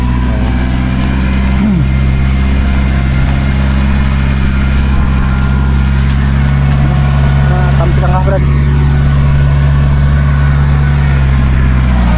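A loud, steady tractor engine drones continuously at close range, low and rumbling, with a brief sweeping tone partway through, where harvested rice is being sun-dried.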